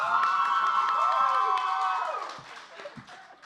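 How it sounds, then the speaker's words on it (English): Cheering section at a college social science quiz show shouting and clapping for a team, loud at first and then thinning into scattered claps and voices. "How come you got a big cheering section"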